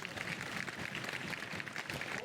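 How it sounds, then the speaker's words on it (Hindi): Applause from an assembly audience, a dense, steady patter of many hands clapping at low volume that continues evenly throughout without a break. "ताली बजाओ"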